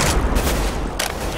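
A flashbang grenade going off in Counter-Strike: Global Offensive on the Cache map, a loud, dense burst of blasts and rumble that fills the whole clip, with game gunfire sounds mixed in.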